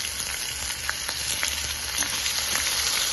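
Garlic fried until reddish, then chopped ginger, crackle and sizzle steadily in a pan, a continuous close frying hiss with small pops and no talking.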